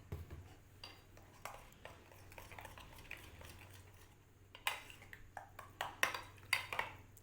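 A spoon scrapes and clinks against a bowl while mustard paste marinade is mixed for tandoori chicken leg kebabs, soft stirring at first, then louder rhythmic clanks and taps near the end.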